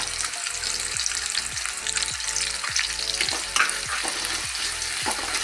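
Egg frying in a pan with a steady crackling sizzle, under a repeating low mechanical hum that pulses regularly in the background. Nobody speaks.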